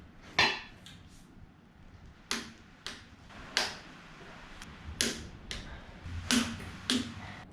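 A torque wrench on Landcruiser cylinder head bolts gives sharp metallic clicks and ratchet snaps at irregular intervals, about a dozen over several seconds, close and crisp against a quiet workshop background with no talking.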